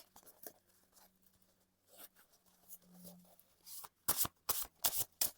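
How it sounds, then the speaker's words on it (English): A 40-card oracle deck riffles and snaps in quick bursts, a series of sharp papery ripples building toward the end, close by with faint background murmur earlier. "Easy to shuffle, like super easy"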